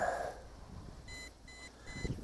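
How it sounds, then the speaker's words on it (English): Three short electronic low-battery warning beeps from an MJX Bugs 20 EIS drone returning home sound in a quick, evenly spaced row, faint against a low background hum. "you hear that beep, beep, beep? It's doing a return to home because it's low battery."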